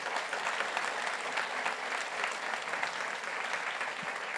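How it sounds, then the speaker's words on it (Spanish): A church congregation applauding during a worship service, dense steady clapping from many people filling the room throughout, fairly distant and even. "Regálale un aplauso bien grande al Señor"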